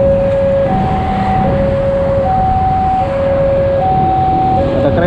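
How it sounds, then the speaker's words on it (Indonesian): Railway level crossing warning bell on an Indonesian street in Jakarta, alternating two-tone ringing repeating steadily throughout over continuous traffic rumble. "ini saya mendengar ada suara perlintasan penjompongan bunyi nih"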